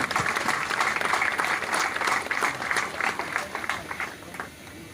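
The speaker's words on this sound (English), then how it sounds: "A huge round of applause, people." An outdoor crowd at a Rotary rain run prize distribution claps for a brigadier, a fairly loud spell of applause that thins and fades toward the end.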